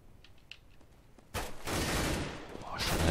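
Counter-Strike gunfire on de_dust2: faint clicks and a distant shot, then a loud burst of rapid firing that lands a headshot and carries on in close, rattling bursts.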